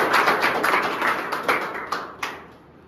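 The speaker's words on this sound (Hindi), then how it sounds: "भाई के लिए ताली बजा दो।" A small group claps for a student at a salon academy certificate day in Maharashtra, a brief burst of close clapping that thins into a few scattered claps and dies away.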